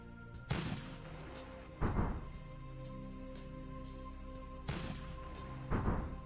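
Mobile artillery firing in the Rusted Warfare strategy game, four deep booming shots in two pairs spaced a few seconds apart, each with a low thud and short decay over a steady game hum.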